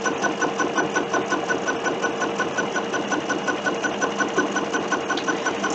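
An embroidery machine stitches across fabric for a bunting project, giving a steady, close, rapid mechanical whir with a regular pulsing rhythm that continues throughout with no speech.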